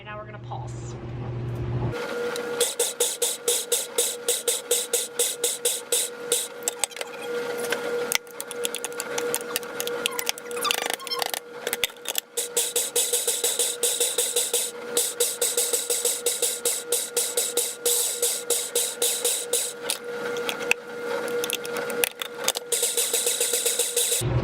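A food processor pulses crab cake ingredients, giving a loud, harsh whirring that runs in rapid, repeated short bursts for most of the stretch.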